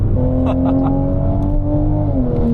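A BMW sports car's exhaust drones loudly and steadily from close by, a deep engine tone that holds and shifts slightly in pitch under throttle.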